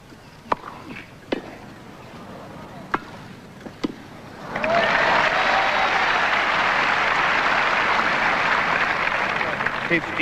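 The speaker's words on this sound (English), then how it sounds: "Listen to the crowd." Wimbledon crowd at the 1979 Borg–Tanner final on grass, a few isolated claps and thuds first, then a sudden sustained roar of loud applause and cheering filling the stadium.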